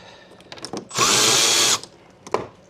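Cordless power tool working a 7mm hose clamp on a 2012 Ford Focus during dual clutch removal, sounding as one loud, steady whirring burst of under a second, with light clicks and handling noise before and after.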